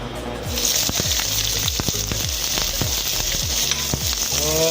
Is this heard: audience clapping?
no